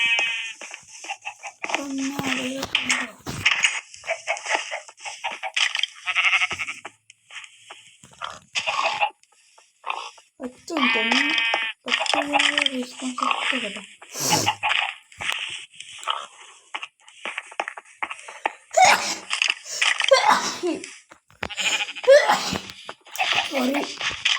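Minecraft goat bleats, short wavering cries repeated through the scene, mixed with chatter and other animal noises including pigs and chickens.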